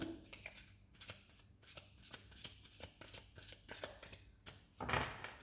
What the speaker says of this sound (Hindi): दो कार्ड्स पुल करना चाहूंगी मैं। एक और क्विक शफल।